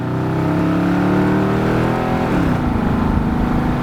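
A loud engine drones steadily as an old SUV accelerates, its pitch climbing then dropping as the transmission shifts gear.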